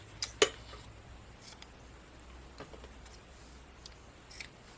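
Scissors snip ribbon ends on an embroidered Easter basket tag, with two quick close snips followed by faint rustling and one more light snip, quiet and without talk.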